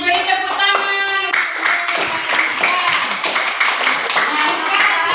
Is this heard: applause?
yes